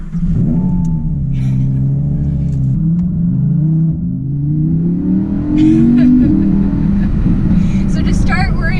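A 2020 Audi R8 engine revs hard as the drive begins, a loud, close rumbling roar that climbs and settles through several rises in pitch, with faint talk in the cabin.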